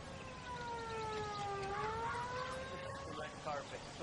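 An ambulance siren in the video game LA Noire wails with a steady rising and falling tone, loud and continuous over a noisy background throughout.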